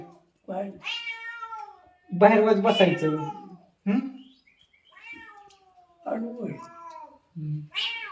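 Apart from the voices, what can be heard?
cat meowing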